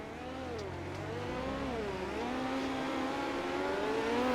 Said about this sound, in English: we're about to see this iRacing.com virtual pace truck. It'll be making its way onto the racetrack